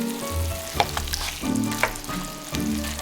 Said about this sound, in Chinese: 继续翻炒，炒出酱香。